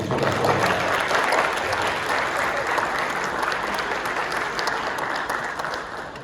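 Steady audience applause fills a retirement event, a dense wash of many hands clapping at fairly close range that tapers off slightly at the end.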